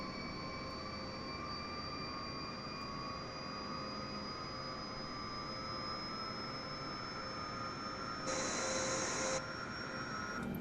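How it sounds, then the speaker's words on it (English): A steady Boeing 747-8 jet engine whine and roar during startup in Microsoft Flight Simulator, continuous and even, with a rising high-pitched tone and a brief burst of louder hiss near the end. "Engine number 4 coming online."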